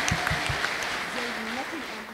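A congregation applauds at a service led by a prophet, producing steady broadband clapping throughout, with a voice carrying over it.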